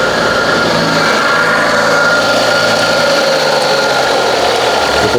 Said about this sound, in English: Wait a second, I have a high idle.